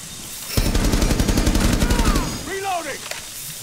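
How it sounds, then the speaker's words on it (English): Rapid automatic gunfire in the video game Rainbow Six Siege, a loud close burst of about a second and a half, followed by a short whistling tail and a voice. "Who's shooting at me?"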